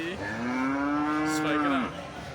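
A single cow lets out a long, loud low moo, steady and close, at a rainy village cattle market, with faint background noise around it.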